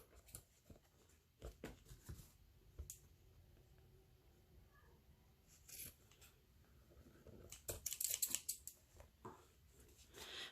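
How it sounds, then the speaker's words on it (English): Scissors snip and trim the edges of a handmade journal built from a Creamette pasta box, with close, quiet irregular cuts and rustling paper, growing busier toward the end. "Come on, scissors."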